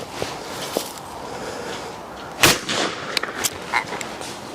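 A Browning gun fires at a clay target, a single sharp report at moderate distance over steady outdoor background noise, followed by a few fainter clicks and knocks.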